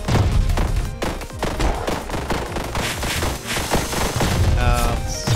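Rapid turret fire in the video game One Step From Eden, a dense stream of sharp crackling shots layered over game music, continuous and loud throughout.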